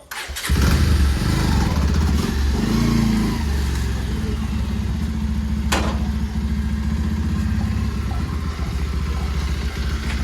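A motorcycle engine idles close by, a loud low throbbing rumble with some rev changes early on, running continuously with a sharp clatter partway through.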